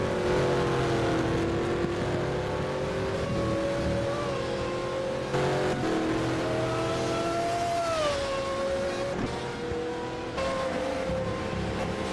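A V8 race car engine in a sim racing game at the Sachsenring circuit drones loudly and steadily, its pitch rising and falling through gear changes and corners, with no voices.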